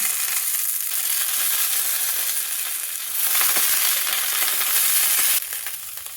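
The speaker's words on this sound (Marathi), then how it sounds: "झाकण ठेवून लो फ्लेमवरती वांगी आपण भाजून घेऊया" Eggplants roasting in a covered pan over a low flame for Maharashtrian baingan bharta make a continuous loud, bright hiss. The sizzle swells near the middle and then drops off toward the end.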